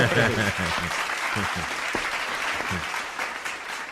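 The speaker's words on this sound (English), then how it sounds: "let me give you a warm round of applause for coming on the pod tonight" Warm round of applause from a small studio audience during a Toronto podcast taping, steady clapping filling the whole stretch with voices talking and cheering over it.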